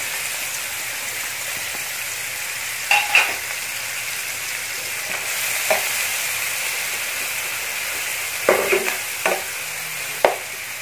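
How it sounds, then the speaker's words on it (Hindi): Onions fry in a hot pan with a constant crackling hiss, punctuated by a few sharp spoon taps and stirring clatters, close by and with no voices. "मैं इसमें प्याज फ्राई करूँगी।"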